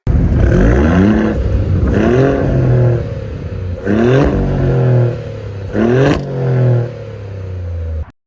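A Maserati GranTurismo Trofeo engine revs hard several times in a row, each roar climbing in pitch before dropping back to a rumbling idle.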